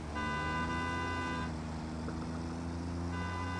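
A train horn in the Satisfactory video game sounds as a steady, multi-tone blare, cuts off partway through and then returns, over continuous low rumbling game noise.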